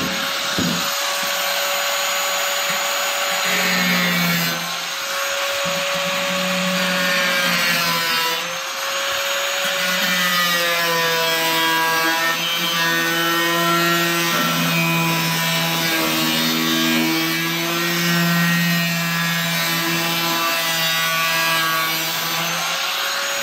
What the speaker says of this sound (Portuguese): Vou ligar aqui a lixadeirinha para fazer um pouco de barulho aí